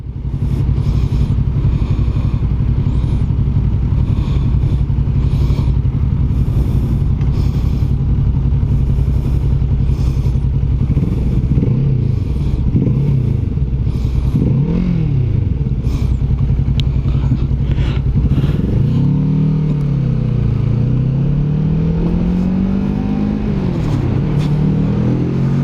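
A 2021 Kawasaki Vulcan S motorcycle engine idles with a steady, loud rumble, then revs up in several rising and falling surges before pulling into a sustained accelerating drone, heard close with no talk.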